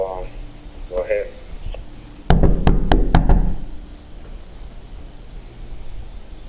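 Knocking on a shut door in a house, a loud close series of about six sharp raps in quick succession, with a brief voice heard just before.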